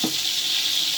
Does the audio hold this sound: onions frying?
yes